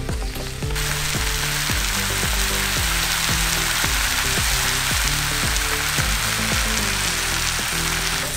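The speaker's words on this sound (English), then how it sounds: "I can already smell the coconut frying." Grated coconut frying in coconut oil for a Kerala dry roasted chicken, cooked outdoors: a loud, steady sizzle with crackling spatter throughout and a repeated rhythmic scraping of stirring under it.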